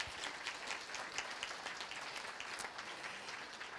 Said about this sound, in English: Would you clap them as they come